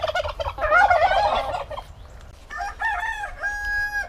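A cockerel squawks and gobbles loudly at close range while being caught, a harsh burst of calls, a short pause, then several more strained cries.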